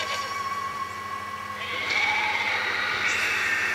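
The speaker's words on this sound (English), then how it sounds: "And it's a sheep. Or a ram." A sheep or ram bleats in the video game Okami. Several short, nasal, wavering bleats sound over a soft game background with a low hum, with no talking.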